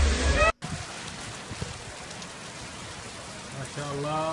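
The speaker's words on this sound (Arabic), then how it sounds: "هذه الأمطار عندنا أمطار قوية جدا جدا." Very heavy rain pours down in a dense, steady hiss, with a person talking briefly at the start and again near the end.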